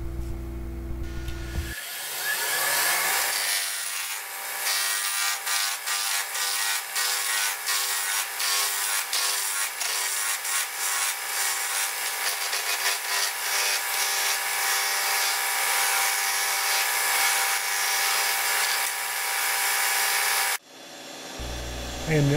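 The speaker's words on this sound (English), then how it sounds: "I'm roughing my box blank down now with the spindle roughing gouge." Spindle roughing gouge cutting a burl box blank spinning on a wood lathe: a loud, continuous scraping and chattering cut with rapid rhythmic ticks from the uneven burl, running steadily for about twenty seconds before stopping.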